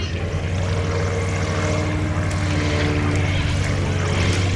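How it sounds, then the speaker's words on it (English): The engine of a 1936 Blackburn B2 two-seat propeller trainer aeroplane drones steadily and loudly at an airfield, a continuous rumbling hum with no talking. "A very rare aeroplane indeed, the Blackburn B2."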